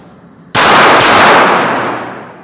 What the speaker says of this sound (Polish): To jest podwójny strzał.